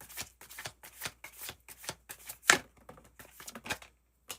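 Tarot cards being shuffled by hand, a quick series of crisp riffling flicks in an irregular rhythm, close and clear with no talking.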